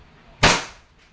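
A WE Hi-Capa T-Rex airsoft pistol fires one sharp, loud, close shot that snaps and then trails off quickly.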